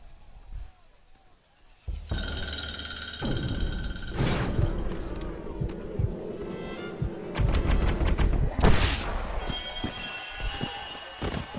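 Gunfire during a Wild West desert duel in a video game, a few sharp shots cutting through a busy mix of hoofbeat-like clatter and game sounds, with louder bursts near the middle and end.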